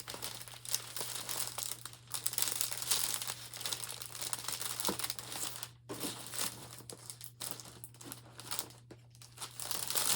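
A plastic packaging bag being cut and handled produces continuous close crinkling and rustling, with small snips and crackles throughout and brief pauses, quiet and without talk.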